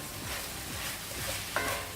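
Steady, dense sizzling of mutton frying in masala in a pan, with a few soft stirring scrapes and no voices.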